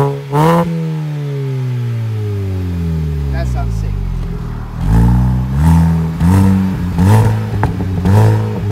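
An R53 Mini Cooper S JCW's 1.6-litre supercharged engine winds down from a high rev, then is blipped repeatedly in sharp, rising bursts, close and loud.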